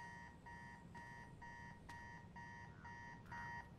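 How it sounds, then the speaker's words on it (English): An alarm clock rings in the Spider-Man 2 video game, a steady repeating electronic beep in short even pulses about twice a second, continuing throughout at moderate level. "Turn that damn alarm off."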